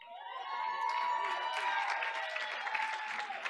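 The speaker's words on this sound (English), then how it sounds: "Audience, let's give them another round of applause." A school board meeting audience gives a round of applause for honorees, a broad steady wash of clapping with some cheering and children's shouts, heard from a distance in a large room.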